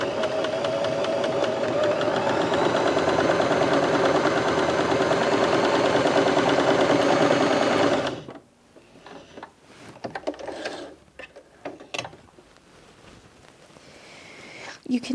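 A Bernette B35 sewing machine runs a long straight stitch at maximum 4mm length, a steady loud mechanical whir for about eight seconds that then stops abruptly, leaving a few soft clicks and handling sounds.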